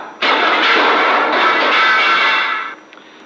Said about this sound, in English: it can accelerate 4-pound missiles such as this up to nearly 100 miles an hour